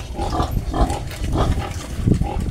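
A young piglet grunts close by in a rapid string of low, rough snorts that run throughout.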